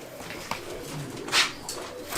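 A Madrasi pigeon, a prized female, gives a brief soft coo over a low background hum, with no one talking.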